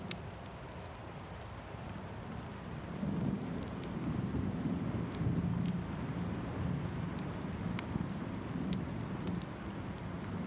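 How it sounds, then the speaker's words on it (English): Steady rain falling on a cabin during a rainstorm, a low, continuous wash that swells slightly midway, with scattered sharp drips and taps sounding close by. "The rain continues its steady rhythm"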